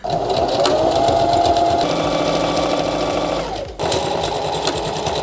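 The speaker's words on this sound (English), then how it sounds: "Now I'm gonna sew it up" A sewing machine stitching up the side seam of thrifted jeans runs steadily and loudly up close, its motor whirring and needle clattering continuously, briefly slowing and pausing before running on again.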